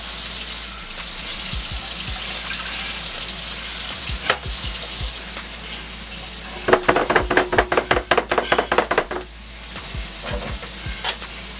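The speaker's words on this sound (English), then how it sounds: "Then we're going in with 1 cup of water." Water poured into a chicken and rice mixture in a kitchen, a steady pouring wash with a sizzling hiss, then a run of quick stirring scrapes and knocks near the end.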